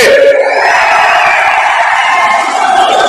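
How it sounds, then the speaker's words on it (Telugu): A large crowd at a political rally cheers and shouts in a loud, continuous roar that holds steady without a break. "గట్టిగా చప్పట్లు కొట్టి అభినందించండి"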